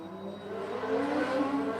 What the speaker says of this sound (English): here we go with the motorbikes